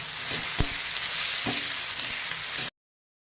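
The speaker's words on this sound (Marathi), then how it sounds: "हळद, चवीनुसार लाल मिरची पावडर चांगलं परतून घ्या." Turmeric and red chili powder sizzle steadily in hot oil for a spicy Marathi chutney of pigeon peas, with a couple of sharp spoon clinks against the pan. No one speaks.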